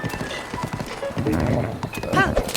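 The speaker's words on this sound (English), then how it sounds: "Where's this horse going?" A horse's hooves clop rhythmically in Zelda: Breath of the Wild, galloping at night with a neigh partway through, while someone talks over the hoofbeats.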